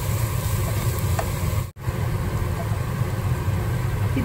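A mix of small and large onions sautéing in a pan gives a dense, continuous sizzle with an even hiss throughout, broken by one very short dropout partway through; no voices.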